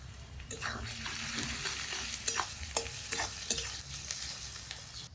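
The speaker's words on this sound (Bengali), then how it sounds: "এখন এই পেঁয়াজের উপরে শুকনো লঙ্কা জিরে গরম মশলা দেব" Onions fry in a wok with dry chilli, cumin and garam masala, a quiet, steady sizzle broken by repeated scraping stirs at irregular intervals.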